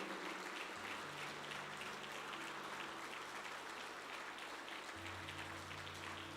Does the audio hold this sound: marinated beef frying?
no